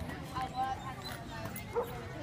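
Dogs at an outdoor pit bull rescue community event offering free vaccines, spay, neuter and deworming, heard as brief yips and whimpery barks amid crowd noise and a person talking.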